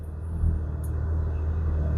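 A car engine rumbles low and steady while reversing, a close, continuous idle-like drone with no voices over it.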